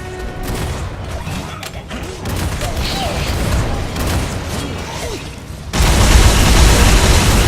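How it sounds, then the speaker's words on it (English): Loud, dense battle noise from War for the Overworld as a bombard comes under attack and is destroyed: rumbling booms and clattering impacts throughout, swelling into a louder, harsher roar near the end. "Your bombard is under attack. Your bombard has been destroyed."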